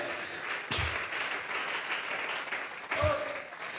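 A church congregation claps in praise during a Spanish-language service, a moderate, somewhat distant patter of applause with a couple of heavier thumps, lasting a few seconds.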